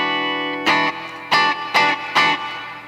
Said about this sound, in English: So we're using a little reverb, a little echo, and just a little bit of chorus.